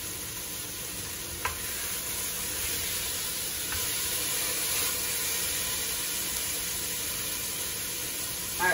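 Butternut squash, microwaved first, searing and charring in a hot pan with soy braising ahead, giving a steady, close sizzle and hiss with a couple of faint utensil clicks.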